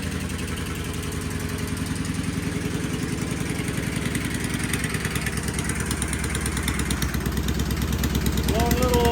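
A vintage British race motorcycle engine idles steadily and loudly up close, with a throbbing, slightly uneven beat and a faint metallic clatter throughout.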